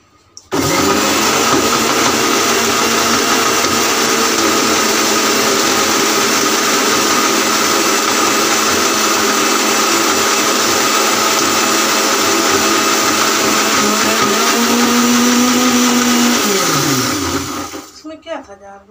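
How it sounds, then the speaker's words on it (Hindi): Blender grinding raw mango pulp with added water, a loud, steady motor whir running continuously for about seventeen seconds, with a pitch shift near the end before it winds down and stops. "तो सब पानी ऐड कर लेंगे ताकि हमारा ये फल अच्छे से बारीक पीस जाए।"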